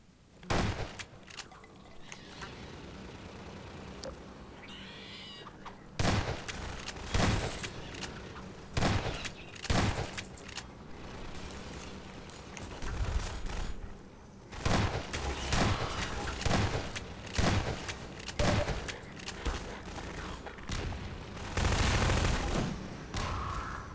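Repeated bursts of gunfire in Half-Life 2: Lost Coast, loud and close, with volleys scattered through the clip and brief quieter gaps between them.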